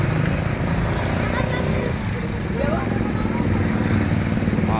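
Engines idle and rumble in a total standstill on the Jambi–Palembang national road near Tempino, where a culvert is being replaced. Motorcycles and cars drone steadily up close while someone talks over the traffic.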